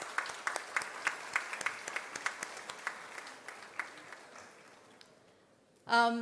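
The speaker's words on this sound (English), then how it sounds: "So give yourself a good round of applause" Students in a campus auditorium clap in a crisp, fairly rhythmic patter of distinct hand claps that thins out and fades over several seconds, before a loud voice comes in at the very end.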